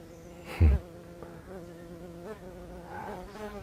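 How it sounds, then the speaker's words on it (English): A bee buzzes nearby outdoors, a faint steady drone with a closer swell near the start, drifting under the open-air ambience. "Beautiful bee joining me here too."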